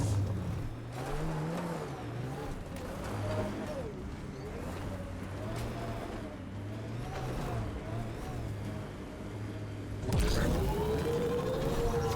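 A vehicle in Mass Effect Andromeda drives steadily with a droning engine that rises and falls, then swells louder near the end, with no talk over it.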